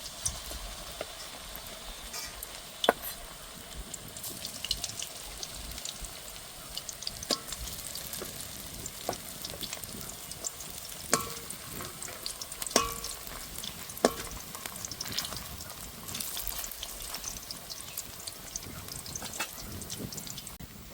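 Banana stem chips deep-frying in hot oil, a steady bubbling sizzle lasting throughout with scattered small crackles and pops, no voices.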